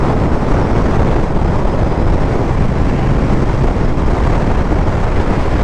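Strong wind roars steadily while riding a Kawasaki Ninja H2 motorcycle, a dense buffeting rush across the microphone with no pauses.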